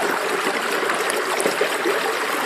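Fast water rushing through a Keene A52 sluice box during a single-bucket run, a dense steady hiss and gurgle of flowing water close by, heard alone without talk.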